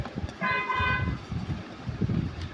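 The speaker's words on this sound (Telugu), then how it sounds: "ఓకే పని చేస్తుంది హారన్ వస్తుంది" A single electronic horn toot from a children's battery ride-on toy car, about half a second, clear and close, with low rumbling background noise around it.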